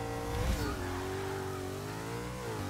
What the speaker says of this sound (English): Now I'm going to try to be careful on the launch.